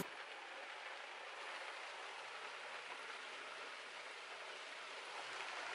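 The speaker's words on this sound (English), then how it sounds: "it's raining" Heavy rain hisses steadily and densely, a constant broadband wash with no voices, close and loud throughout.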